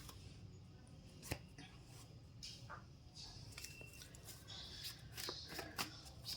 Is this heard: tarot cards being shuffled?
yes